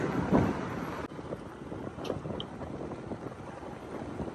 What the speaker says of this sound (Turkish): Elimde kamera tutmadan rüzgar var.